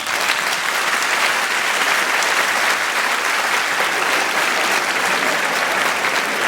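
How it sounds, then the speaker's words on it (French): A comedy-show audience applauds steadily and loudly, a dense continuous patter of many hands clapping throughout with no voices standing out. "On peut l'applaudir."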